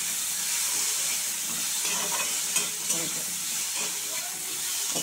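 Green chili, onion, garlic and ginger stirred in a hot frying pan, a continuous close sizzle with scraping and clinking of the spatula against the pan in an irregular rhythm.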